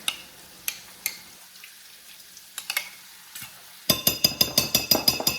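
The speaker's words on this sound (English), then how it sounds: "I'm just going to mix everything in here." Mayonnaise stirred into a broccoli salad with cashews, a few scattered wet clicks of a spoon in the bowl, then a quick rhythmic run of sticky scraping strokes, close and fairly loud.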